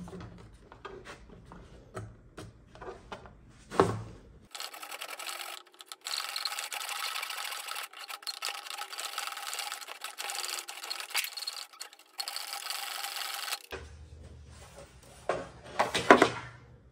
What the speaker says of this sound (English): So I'm just going to use my miter box. I'm just going to make my 45-degree cut